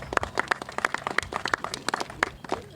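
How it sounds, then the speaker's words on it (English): An audience claps for an attorney stepping up to speak: scattered, irregular hand claps from a modest crowd, close and distinct, lasting a few seconds with no talking. "Let's give him a hand clap of encouragement"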